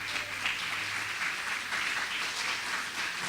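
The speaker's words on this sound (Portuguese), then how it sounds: "pode aplaudir o Senhor" Steady applause from a church congregation in Portuguese-speaking worship, dense and even for the whole span, with a faint low hum underneath and no voices.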